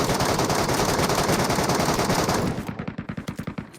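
Automatic gunfire in the video game PUBG on the Metro mode: a dense, loud stream of shots that breaks into distinct rapid bursts near the end, with no talk over it.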